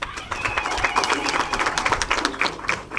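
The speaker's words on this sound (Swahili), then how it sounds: "Wapigiwe makofi" Crowd applause at a Kakamega County children's policy launch, honouring Moffat Mandela and his team: dense, steady clapping from many hands, fairly close and sustained for about three seconds.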